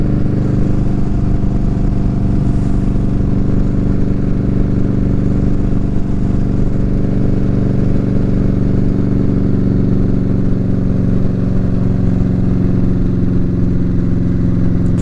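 A motorcycle engine at full road speed, loud and close, with a continuous steady drone that barely changes across the ride, with no clear gear shifts and no voices.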